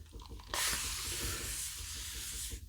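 A spray bottle spritzes water onto shaving lather on a face, a sudden close hiss that starts abruptly and holds steady for about two seconds before cutting off.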